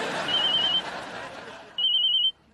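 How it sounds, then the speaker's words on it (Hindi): A phone rings in an indoor comedy scene: two bright electronic trilling bursts, each about half a second long, separated by a pause. A background murmur of voices sits under the ringing. "फोन बज रहा हुआ आपको?"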